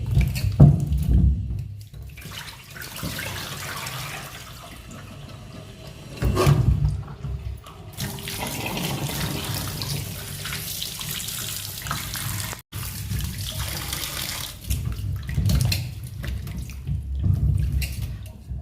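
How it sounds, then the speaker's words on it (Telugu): Country tomatoes are rinsed under a running kitchen tap, with a steady stream of water and splashing surges as they are rubbed and turned in a sink, close by. "టమాటాలని శుభ్రంగా కడగాలండి, 2-3 సార్లు కడగాలి."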